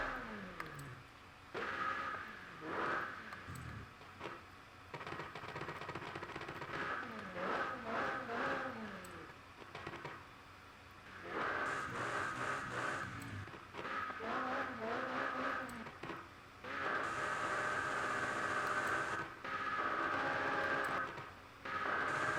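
A McLaren GT in Forza Horizon 5 fitted with a new exhaust, engine revving and rising through gears repeatedly, with shifts, sustained high-revving stretches and brief drops, fairly close and loud throughout.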